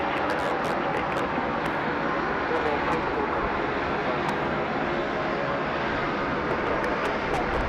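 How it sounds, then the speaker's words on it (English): Etihad Boeing 777 airliner coming in to land at Sydney Airport at night, a steady broadband jet roar that stays loud and continuous throughout, with faint voices talking underneath. "Lovely to see the Etihad 777 coming in."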